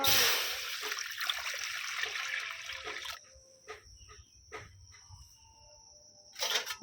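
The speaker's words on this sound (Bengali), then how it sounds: "কড়াইয়ের মধ্যে দিয়ে দিচ্ছি জল" Water is poured into a wok set on a lit stove to prepare steamed egg bhapa: a close, gushing splash lasts about three seconds, then stops, followed by a few faint clinks and drips.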